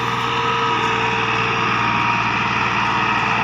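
A key-start tractor climbing a dirt slope while hauling a trolley, its engine a loud, steady, throbbing drone running without a break.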